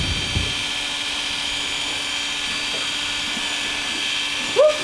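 Electric clippers buzz steadily while roaching a horse's mane, a constant close-up whine running the whole time with a small rustle near the end.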